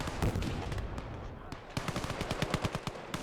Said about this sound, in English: My 45 shooting on them as well